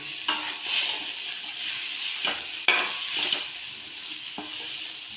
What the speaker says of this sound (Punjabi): ਆਪਾਂ ਲਸਣ ਅਦਰਕ ਤੇ ਹਰੀ ਮਿਰਚ ਨੂੰ ਚੌਪ ਕੀਤਾ ਸੀ ਆਪਾਂ ਇਸ ਟਾਈਮ ਤੇ ਉਹ ਵੀ ਇਸ ਵਿੱਚ ਐਡ ਕਰ ਦਵਾਂਗੇ ਤੇ ਇਹਨਾਂ ਨੂੰ ਵੀ ਆਪਾਂ ਚੰਗੀ ਤਰ੍ਹਾਂ ਭੁੰਨਾਂਗੇ